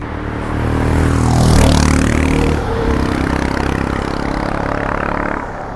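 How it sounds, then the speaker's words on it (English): A Royal Enfield motorcycle engine fitted with a PoweRage aftermarket exhaust revs up close and loud, rising to a peak and falling back into a steady, throaty idle. "it has pleasing exhaust sound of Royal Enfield engine"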